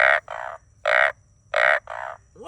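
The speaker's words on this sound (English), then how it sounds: "there's loud frogs" Loud frog croaks in paired bursts, repeating rhythmically close by against a quiet background.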